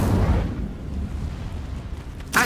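An Incendio fire spell cast in Hogwarts Legacy bursts with a dull, booming whoosh that fades quickly, followed by a brief sharp flare at the end.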